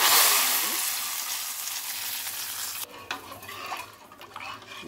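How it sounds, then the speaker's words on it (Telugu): Tempering of curry leaves and small onions sizzling in a pan for lentil rasam, a loud close hiss that drops after a few seconds into softer crackling and stirring scrapes. "తాలింపు."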